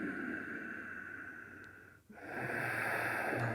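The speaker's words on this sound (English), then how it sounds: "this kind of breathing is known as Ujjayi breath, so you're inhaling and exhaling through the nose, keeping this soft whispering sound that comes from your throat" Ujjayi breathing through the nose, a soft whispering throat sound: one long steady hissing breath, a brief pause, then another sustained airy breath, close and continuous with no speech.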